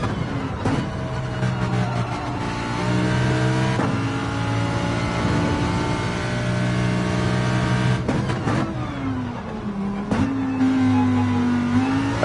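Lamborghini race car in a racing video game, engine revving hard through the gears with pitch climbing then dropping at each shift, loud and continuous from start to finish.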